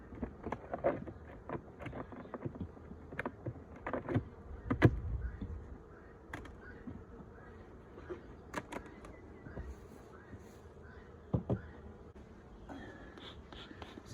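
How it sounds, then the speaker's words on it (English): Honey bees around a Flow Hive hum faintly in a quiet outdoor setting, with individual insects buzzing past close by at irregular moments against a low, scattered background drone. "there's a scattering of bees up there"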